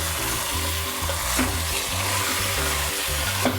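Mutton and onions fry loudly in a pan, a dense continuous sizzle with the thud and scrape of stirring throughout and no talking.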